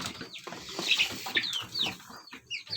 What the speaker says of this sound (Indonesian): sekali lagi kita akan coba kasih makan ayam pakai maggot